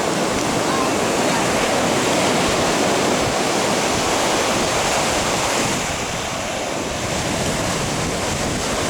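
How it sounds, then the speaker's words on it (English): Atlantic Ocean waves break on a misty winter shore in a continuous broadband roar of surf, loud and steady, mixed with wind buffeting the microphone. "Waves are breaking down here."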